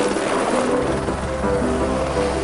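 A helicopter belonging to a wealthy owner drones steadily with a dense, broadband rotor and engine roar, constant and fairly loud throughout, with no voices.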